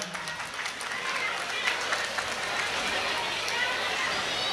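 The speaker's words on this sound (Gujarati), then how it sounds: "જોરદાર તાળીઓથી બજાવો ભાઈ" A crowd at an honouring ceremony in Mumbai applauds, with dense, continuous clapping filling the room at a steady loudness throughout.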